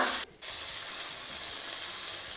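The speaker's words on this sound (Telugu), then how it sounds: "చూడండి, ఆల్రెడీ నా ఉల్లిపాయలు వేగుతూ ఉన్నాయి, చూసారా?" Onions frying in a pan with green chillies and curry leaves, a continuous close sizzle with a brief dip near the start and a small clink near the end, no talking.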